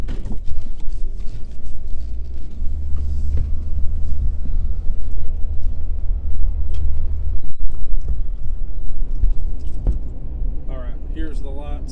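Jeep Cherokee with aftermarket LED headlights driving on a road, a steady low engine and tire rumble continuing throughout, close and loud, with brief rattles and a voice near the end.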